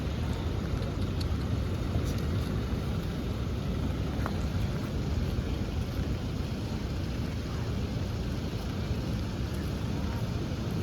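A heavy downpour in Varkala pours steadily as a dense, even hiss of rain, with low thunder rumbling underneath at a constant level and no talking.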